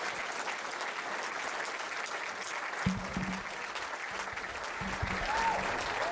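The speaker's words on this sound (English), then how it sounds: "I have a round of applause for Kevin Shipp, whom I respect greatly." Audience applause for a speaker, continuous even clapping from a crowd at moderate distance, with a few brief low thuds and a faint tonal chirp partway through.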